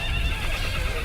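A horse gives a short, loud whinny in the middle of a dense, noisy scene from a drama about the battle of Karbala.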